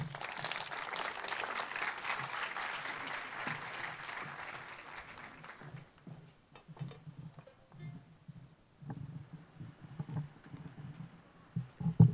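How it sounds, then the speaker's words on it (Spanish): An audience at a museum award ceremony greets a performing group with loud, dense applause that fades out after about five seconds, leaving scattered taps and faint murmurs. "Recebendo com um forte aplauso Serenada"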